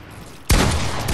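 A Fortnite gun goes off with one abrupt, loud, close blast after a moment of low background noise, and a heavy ringing tail fills the rest of the moment.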